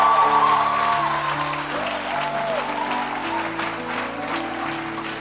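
A church congregation claps in sustained applause during a worship service, the clapping filling the room over soft held keyboard chords.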